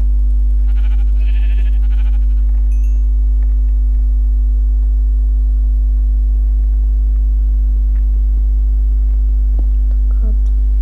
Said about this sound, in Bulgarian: Това е тази овца, бе.